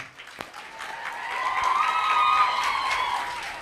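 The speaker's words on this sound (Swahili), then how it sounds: "Makofi kwake as he comes forward" A crowd at a dormitory and multipurpose hall commissioning breaks into applause that swells steadily to a full, sustained clapping and stays strong to the end.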